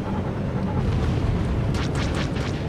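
A turret fires on a starfighter in Star Wars: The Old Republic's Galactic Starfighter mode, a loud, dense barrage of booming blasts rolling continuously with sharper bursts near the end, no voices.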